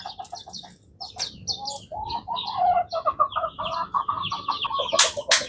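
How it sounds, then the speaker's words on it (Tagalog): A rooster calls on a farm at sunrise among coconut palms, its drawn-out crow rising through a steady wash of chirping birds and clucking fowl, fairly close, with a sharp burst of noise near the end. "Tandang natin guys."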